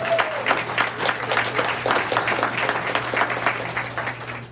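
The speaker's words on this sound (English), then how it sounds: "There are almost 90 of us here today, so give ourselves a round of applause" Applause from around ninety people at a Rotary club lunch, a full, lively patter of many hands in a room with a low steady hum beneath, fading slightly toward the end.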